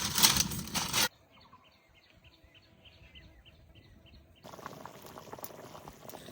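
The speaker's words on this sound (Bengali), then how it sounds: "তরকারির ঝোলে ভালো করে জাল উঠে গেছে" Potato curry broth boils in a pot with a short burst of loud, close bubbling, then a quiet gap with faint chirps, then steady bubbling again.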